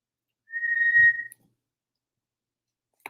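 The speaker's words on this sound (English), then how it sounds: "Dwayne's reindeer whistle would signal the team, although to the reindeer, it's quite loud" A reindeer whistle blown once, a single clear steady tone lasting under a second, close and fairly loud, followed by silence and a faint click.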